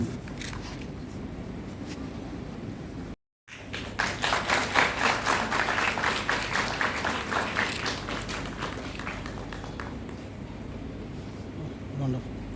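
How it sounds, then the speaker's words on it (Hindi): An audience at a childcare foundation day celebration breaks into sustained applause after a brief gap, loud clapping that gradually thins out, with some talk mixed in. "तालियां बजती रहनी चाहिए"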